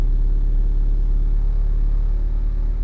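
Classic Mini Cooper engine running steadily after a floor push-button start, a close, even low rumble with a continuous hum throughout, no voices.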